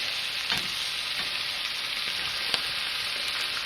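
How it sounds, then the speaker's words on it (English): Potatoes sizzle in a pan with cilantro, parsley, garlic and onions, a steady hiss of frying broken now and then by soft stirring scrapes. "Give this a saute, just a quick saute."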